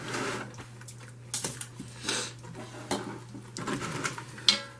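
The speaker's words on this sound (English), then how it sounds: "we're just going to whisk and cook it and add more as we go" A whisk works through mac and cheese sauce as it thickens in a pot. Quiet, irregular metallic clinks and scrapes sound against the pot over a low steady hum.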